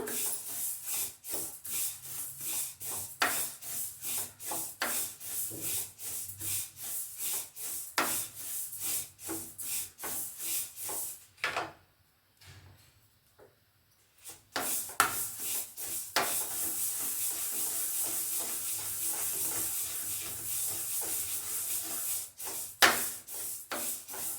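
Raw peanuts roasting and being stirred in a pan for a Sankranthi sesame and jaggery treat: steady, gritty scraping and rattling in quick repeated strokes, close by, with a short pause midway before the stirring resumes.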